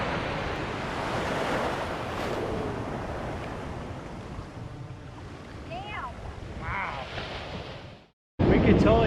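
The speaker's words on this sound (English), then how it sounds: "The water can be somewhat placid or have super churned up surf." Churned-up ocean surf rolling onto a Crystal Coast beach in North Carolina, a loud continuous roar with wind buffeting the microphone and brief faint voices near the end.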